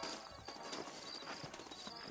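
Horses' hooves clip-clop in the Red Dead Redemption video game, a faint, busy patter of hoofbeats under a continuous noisy background.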